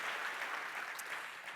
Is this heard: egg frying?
no